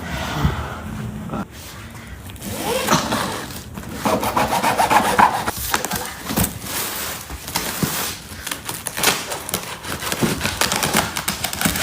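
Utility cutter slicing through the tape and cardboard of a fragile-marked parcel holding an LED projector headlight for a Honda Click V3 scooter, heard as close, rough scraping and sawing strokes with soft breaths between them.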